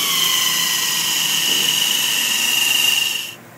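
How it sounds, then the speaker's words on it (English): An orbital dual-action sander runs steadily on a 2002 Honda Civic headlight lens with a dampened 3000-grit pad, a high whining hum held close and even for over three seconds before cutting off abruptly near the end. "we're going to move up to a 3000 grit."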